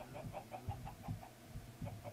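Chickens in the Minecraft video game give a run of short, rhythmic clucks, several quick repeated calls close by and fairly quiet, with no talking over them.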